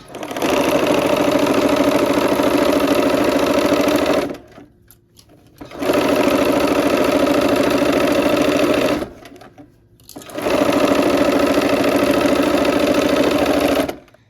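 A sewing machine stitches a quilt block in three long, steady bursts of fast whirring stitching, each several seconds long, separated by short pauses, loud and close.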